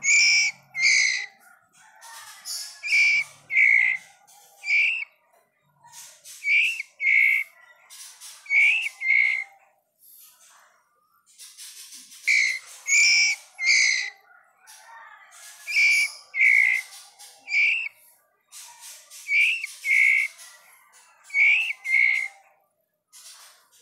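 Recorded song of a white-rumped shama (murai batu) played back: bright, whistled phrases in repeated bursts with short pauses, clear and fairly loud, with no talking.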